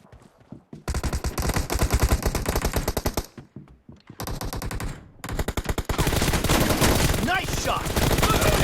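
Rapid automatic gunfire from PUBG played on an iPhone, with dense bursts of shots broken by short pauses and a final long sustained volley, loud and close.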